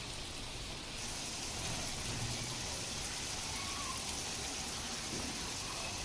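Steady, dense rain hisses loudly and evenly throughout in the rural Talala Gir area of Gujarat, a continuous wash of drops falling on surfaces nearby, with no voices.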